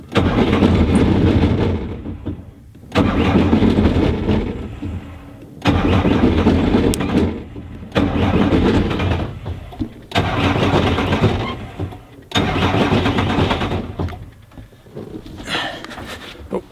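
A Bobcat T180 skid steer diesel with about 2,400 hours cranks repeatedly without firing: six loud starter bursts of a few seconds each, separated by short silent pauses, the last one weaker.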